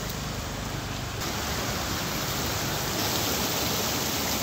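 A river rushes right beside a campsite in Bridger National Forest, a constant broadband roar of flowing water that thickens slightly toward the end, with no talking.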